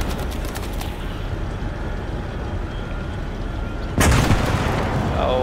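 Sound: big gun firing in Call to Arms: Gates of Hell video game

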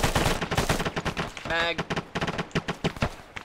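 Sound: gunfire from soldiers firing rounds

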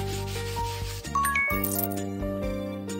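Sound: brushing horse hair in video game

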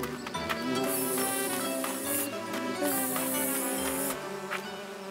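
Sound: cartoon bee buzzing

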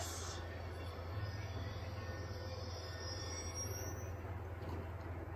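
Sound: train passing by in Call of Duty Black Ops 2 video game

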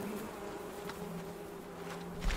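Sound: buzzing bees in the video game Fortnite

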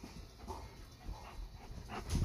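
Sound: big dog panting and whimpering

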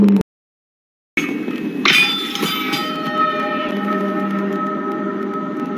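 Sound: bell being cut in half in The Mandalorian

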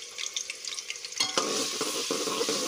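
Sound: crushed garlic frying in hot ghee

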